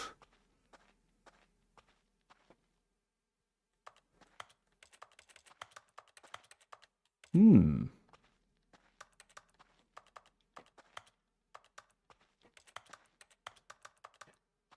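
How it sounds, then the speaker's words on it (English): In the video game The Stanley Parable, a character types on a computer keyboard: quiet, irregular clicking keystrokes spread through a near-silent room, with one brief louder thud in the middle. "it sounds like he's typing on a keyboard"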